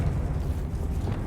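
Confringo blasting-spell explosion in Hogwarts Legacy, a dense, low rumbling burst that stays loud and roiling for about a second without a sharp attack.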